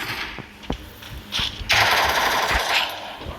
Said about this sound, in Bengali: গুলি লাগতেছে